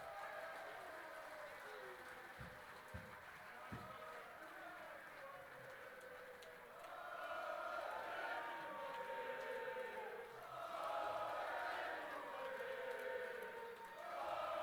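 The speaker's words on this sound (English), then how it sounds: "A massive round of applause for your finalist as he leaves the stage, Andy Baetens." A crowd at a darts final applauds a finalist leaving the stage. The applause is a soft, distant wash of clapping that swells in the second half, with a commentator talking over it.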